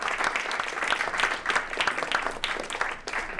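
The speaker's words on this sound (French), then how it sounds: "de venir sur scène sous vos applaudissements." Theatre audience applauding as a guest walks on stage at an award ceremony at the Théâtre du Rond-Point, loud, dense clapping with rhythmic surges throughout.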